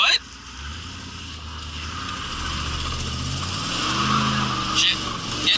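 A Pontiac Trans Am's tires squeal and skid as it loses traction at half throttle, over a rising engine note. A voice speaks over the noise, and the squeal grows louder toward the end.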